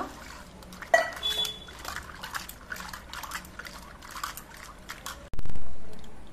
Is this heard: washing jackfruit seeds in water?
yes